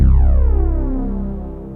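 A drone layer from an Ambient Ø synthesizer with the Lime palette: one deep, harmonically rich tone struck at the start, pulsing slightly as it slowly decays over under two seconds, played alone.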